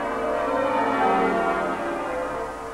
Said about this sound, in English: the famous York Minster bells were ringing out to herald a famous football victory